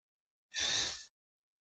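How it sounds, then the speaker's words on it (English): A single deep breath during a meditation session, one close, soft, airy exhale lasting about half a second, with silence before and after. "So taking a deep breath now."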